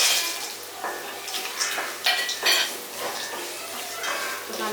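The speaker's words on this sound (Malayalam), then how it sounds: "ഇപ്പം നമ്മുടെ മാങ്ങ അത്യാവശ്യം നന്നായിട്ടൊന്ന് വഴന്ന് വന്നിട്ടുണ്ട്" Raw mango sautéing in a pan for mango rice, with a spoon scraping and clinking against the metal in irregular stirring strokes over a light sizzle, close and fairly clear, no voices.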